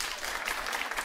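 A talk show studio audience claps in a brief, dense burst of applause, moderately loud and uniform throughout.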